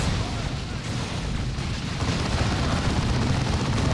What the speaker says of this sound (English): Reaper Barrage, suppressing stuff.